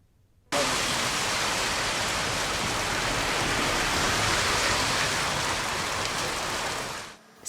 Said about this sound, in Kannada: ಎಡೆಬಿಡದೆ ಸುರಿತಾ ಇರುವ ಮಳೆ